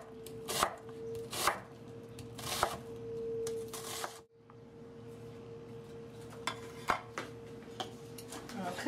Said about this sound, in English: dice this onion, and we'll use the whole onion